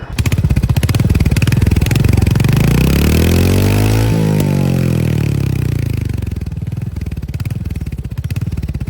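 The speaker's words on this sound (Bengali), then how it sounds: "এই ফার্স্ট কিন্তু আমি রয়্যাল এনফিল্ড চালাচ্ছি" A Royal Enfield Hunter 350 motorcycle engine roars loudly and steadily nearby, its pitch sweeping up through a rev and then falling away, with a dense thumping rumble throughout and no talking.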